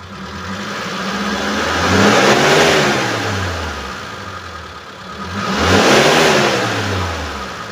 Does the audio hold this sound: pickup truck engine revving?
yes